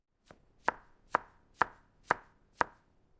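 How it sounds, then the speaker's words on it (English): A kitchen knife dices tomatoes on a cutting board in six evenly spaced, sharp chops. The chops are close and clear, and no one speaks. "Dicing the tomatoes."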